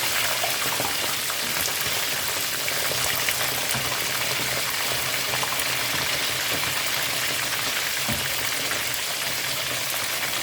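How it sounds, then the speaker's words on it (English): Fish fried Cajun style in a pan of hot oil, giving a steady, close, even crackle and sizzle that runs unbroken throughout with no talking. "you see the fish is frying, and we're gonna let the other side finish cooking"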